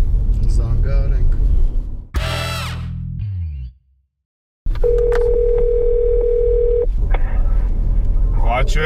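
A telephone being dialed to make a call gives quick keypad tones, a brief silent gap, then a long steady dial tone, with voices talking around it.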